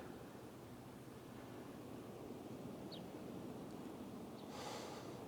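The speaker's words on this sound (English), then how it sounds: "it's very windy here, so I'm getting blown all over the place" Steady wind buffets the microphone in a constant rushing roar outdoors, with no voices.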